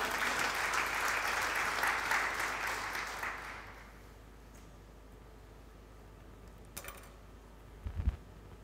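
Church congregation applauding and cheering during a sermon on the nine spiritual gifts, a dense burst of clapping that fades out after a few seconds into quiet room tone, with a couple of faint knocks near the end.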